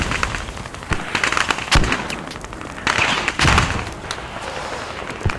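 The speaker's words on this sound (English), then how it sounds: "We're getting mortar. Spread out, Nate." Mortar explosions in the video game Squad: several heavy thumps and blasts land at irregular intervals, a few loud and close, over a constant crackling battlefield din with no speech.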